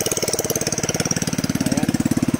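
Small water pump engine running at a septic tank construction site: a close, loud idling chug with a rapid, even pulsing beat throughout and no voices.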